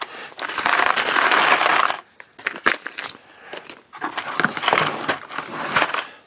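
A bag of metal nuts and bolts is emptied out, first as a dense clattering cascade of hardware, then as scattered jingles and rattles as the pieces settle, close and loud.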